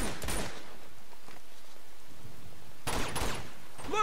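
Gunfire in the Uncharted video game: two short, sharp bursts of rapid shots, one at the start and one near the end, separated by quieter rustling.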